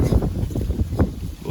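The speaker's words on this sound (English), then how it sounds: "It's super windy out here" Gusty wind buffets the microphone in a low, continuous roaring rumble that swells and eases over a couple of seconds.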